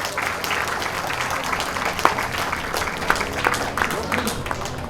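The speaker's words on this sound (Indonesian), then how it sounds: "Kita kasih tepuk tangan yang meriah buat Bapak Haji Andi Bawono" Audience clapping for Bapak Haji Andi Bawono at a Milagros business event, brisk scattered applause with sharp individual claps standing out, continuing steadily over a few seconds with murmured voices mixed in.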